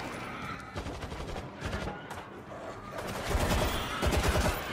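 Turret gunfire in the video game World War Z: dense, continuous rattling bursts of automatic fire that swell louder toward the end, heard at mid distance with no talk over it.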